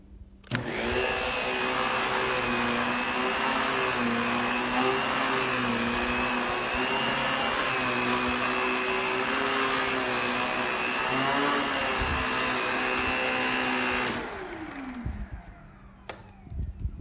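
A Kenmore 81214 bagged canister vacuum runs loudly and steadily with a high whine and low motor drone, then abruptly switches off, leaving a quieter hum and a few clicks.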